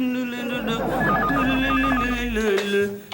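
A telephone bell rings in a home setting in a repeating trilling pattern, mixed with background music and voices talking over it.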